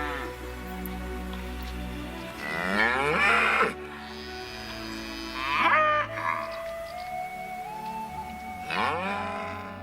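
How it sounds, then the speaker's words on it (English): Cows and calves moo in a field on the Antrim coast, three long, drawn-out bellows rising and falling over a few seconds, close and loud against quiet outdoor background. "There were cows, lambs, sheep, and cutest of all were the little calves that followed around the mummy cows everywhere."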